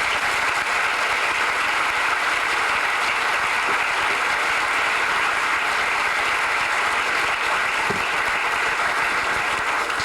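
Sustained audience applause filling a lecture hall at the Kennedy School as First Lady Barbara Bush is welcomed for an evening speech, dense and steady throughout with no speech.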